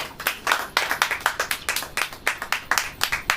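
A church congregation claps along during a Hindi praise and worship service, a steady rhythmic run of sharp, fairly close handclaps with no talk over them.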